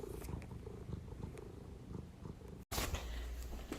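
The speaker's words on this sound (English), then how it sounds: "I don't know if you can tell, but she's purring." A pet cat purring steadily up close, a soft continuous low rumble with faint household noise, briefly cut by a short dropout before resuming louder.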